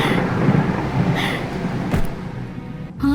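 A dangerous thunderstorm with rain falling steadily, a low rumble of thunder building and a sharp crack near the end, heard alone without talking.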